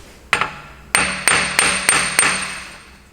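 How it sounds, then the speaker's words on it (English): Hammer lightly tapping the rear axle of a Honda to loosen it during a wheel bearing and hub job, six sharp metallic strikes close by, spaced irregularly then settling into an even rhythm, each ringing briefly. "Next thing I'm going to do is just lightly tap the axle with a hammer"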